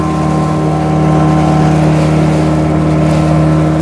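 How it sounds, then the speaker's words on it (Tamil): A racing boat at a boat race approaches across the water with a loud, steady motor roar and strong tonal whine that builds slightly as it nears. "ஒரு போட் வருது பாருங்க"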